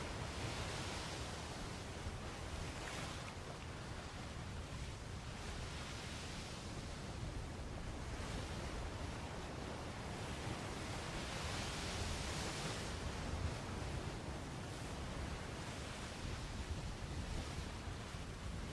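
Steady wind and rolling sea waves in a sailing video game form a continuous broad rush with gentle swells and no voices.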